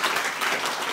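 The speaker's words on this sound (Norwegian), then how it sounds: "Applaus til Truls." An audience at a Norwegian climate breakfast event claps for a speaker, a short, dense burst of many hands applauding at close range.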